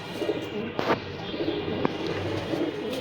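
Racer pigeons housed together in a flying zone coo softly in low, rolling bursts, with a couple of sharp clicks cutting through a steady background hiss.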